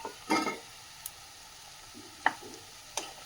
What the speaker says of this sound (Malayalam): ഈ സമയത്ത് നമ്മൾ ക്ലീൻ ചെയ്ത് കട്ട് ചെയ്ത് വെച്ച മഷ്റൂം കൂടെ ചേർത്ത് കൊടുക്കാം